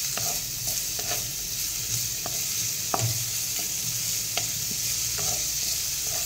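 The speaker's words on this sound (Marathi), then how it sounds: "आता याच्यामध्ये बारीक चिरलेला कांदा घालूयात आणि कांदा पण आपण" Finely chopped onion sautéing in a pan, a loud, even hiss of frying with occasional stirring clicks and scrapes of a spoon, close and without speech.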